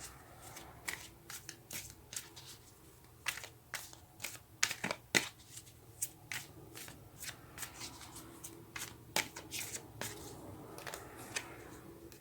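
Tarot cards are shuffled and drawn in a quiet room, producing a string of quick, crisp riffling and snapping bursts that come in irregular clusters, close and soft, with no voices.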